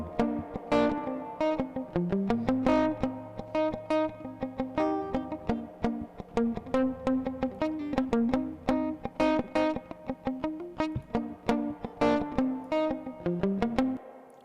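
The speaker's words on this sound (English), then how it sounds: "I love the way that a distorted spring reverb sounds" Distorted spring reverb applied to a plucked, melodic musical phrase, with gritty, echoing note attacks that ring and smear together over a steady rhythm, played alone without speech.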